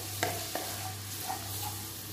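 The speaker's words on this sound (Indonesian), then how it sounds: "ini sudah panas, kita goreng bawang putih" Ground garlic and shallots fry in hot oil in a wok, giving a soft steady sizzle with a few light stirring scrapes and a constant low hum underneath, and no voices.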